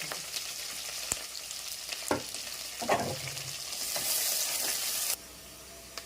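Onions and green chillies sizzle steadily in a hot pan, with occasional stirring clatters. The hiss swells louder toward the end, then drops off abruptly.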